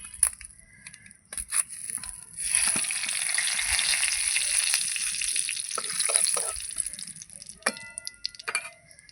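A bay leaf dropped into hot oil sets off a steady, close sizzle that swells and holds for several seconds, then tapers into scattered crackles and stirring clicks.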